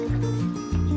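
Pork ribs cooking in a boiling vinegar sauce are stirred, giving short, close wet sloshing and bubbling pulses with a low tonal undertone.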